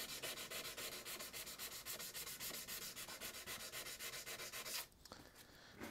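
Rapid back-and-forth hand sanding scrapes over a Vulcan hewing axe head under restoration, a close, rhythmic rasping of many quick strokes that stops near the end.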